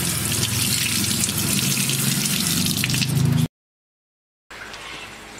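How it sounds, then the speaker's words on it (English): Running tap water splashes steadily over a papaya being washed in a sink, loud and close for about three seconds, then cuts out briefly before a fainter flow resumes. "We're going to wash it now and see how it's going."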